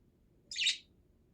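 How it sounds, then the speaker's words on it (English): A single short, high chirp from a wild bird outside a window, faint and distant, lasting under half a second over a quiet background. "You hear those birds outside?"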